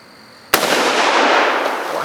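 One loud rifle gunshot cracks at an outdoor plinking session, followed by a long rolling echo that fades slowly, with no voices.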